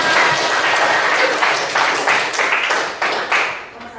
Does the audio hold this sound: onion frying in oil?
no